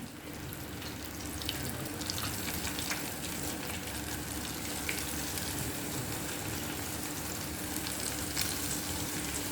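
Steady, busy sizzle of chicken strips frying in hot oil, a dense crackling bubble that fills the whole stretch without pause and with no voices.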